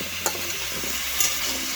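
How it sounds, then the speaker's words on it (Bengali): Chicken stew with added papaya is stirred in a pan, giving a short burst of soft sizzling with a couple of scraping strokes over a low background hum. "পেঁপেটাকে এভাবে দিয়ে নাড়িয়ে চাড়িয়ে নেব"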